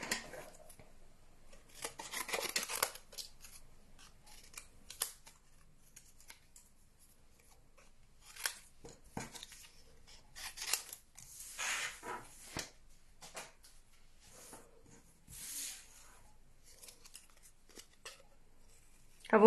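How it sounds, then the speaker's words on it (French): Scissors snip through simple cards in short, irregular bursts of crisp cutting and paper rubbing, separated by quiet pauses, close and fairly soft. "Et maintenant, on vient découper."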